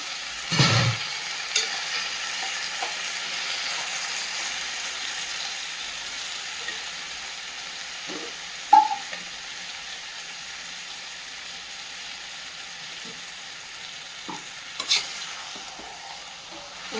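A soft, steady sizzle of green chicken curry paste sautéing with water in a pan, broken by a few scraping clinks of a spoon stirring, mostly quiet otherwise.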